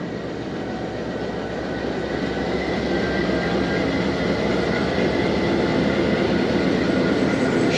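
The Zakariya Express, a locomotive hauling economy and air-conditioned coaches, rolls past with a loud, steady rumble and clatter that holds throughout without a break.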